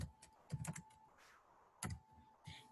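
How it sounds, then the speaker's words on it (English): Computer keyboard typing in short bursts of quick clicks, entering a message into an email form, with pauses between clusters of keystrokes and a faint steady background tone. "we can click on an email, and we can type in the message"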